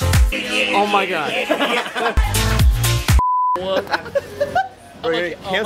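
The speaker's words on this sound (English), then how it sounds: "All you can hear is beep." A loud steady censor beep, a single flat tone about a third of a second long, cuts sharply into lively chatter and laughter among friends on a New York City street, with talk resuming right after.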